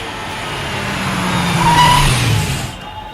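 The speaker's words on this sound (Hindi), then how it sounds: "ड्राइवर, गाड़ी रोको।" A car slows to a stop on a road, its engine and tyre noise swelling then fading over about three seconds, loud and close with no speech.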